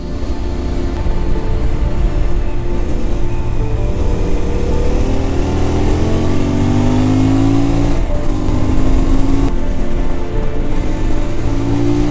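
A CFmoto 450 MT motorcycle engine pulls steadily under acceleration, a loud, continuous mid-pitched drone that rises in pitch through the gears with brief dips between them. Heard close and alone, with wind rush underneath.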